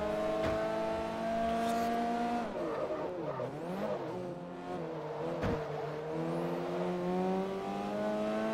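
A race car on the Fujimi Kaido touge course in Forza Motorsport 3 drones steadily at high revs, with its pitch wavering and dipping through corners and brief tire squeal, loud and continuous.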